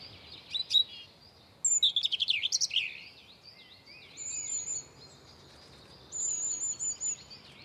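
A wren sings in an urban park, its bright, rapid trilling phrases carrying clearly over faint background hum, with other birds chirping and calling around it.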